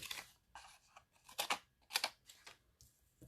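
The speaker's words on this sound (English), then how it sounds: "Scissors." Scissors snipping through paper while cards are being made, a handful of short, crisp cuts in an uneven rhythm, close by and fairly quiet, with no voices.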